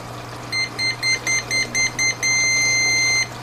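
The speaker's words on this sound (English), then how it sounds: "With a damp sponge, I will trip the sensor into alarm mode." A water sensor alarm, tripped with a damp sponge, beeps in a run of eight short, evenly spaced tones, then holds one long continuous beep, high-pitched and close over a low hum.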